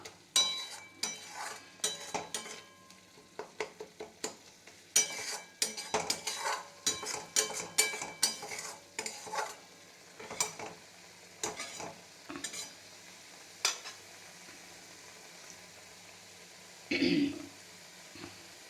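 Cauliflower leaves stir-fried dry in a pan, with rapid scraping and clinking of a spatula against the pan over a low sizzle, ending in a louder burst of frying near the end; no one speaks.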